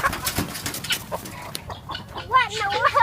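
Chickens cluck and chatter close by in a farm coop, with short bursty calls and rustling movement, growing busier toward the end.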